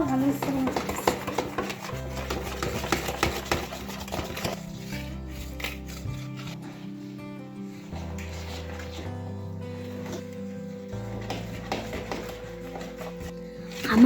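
Utensil clinks and scrapes against a bowl while batter for Kazakh oladyi pancakes is stirred; the batter is slightly runny, made with five spoons of flour. The tapping comes in irregular bursts beneath steady background music.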